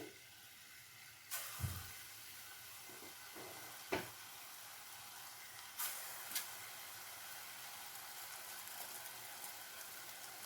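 Gram flour bonda batter is dropped into hot oil, bringing a low, steady frying hiss broken by a few brief bursts and splashes as portions go in, fairly faint overall.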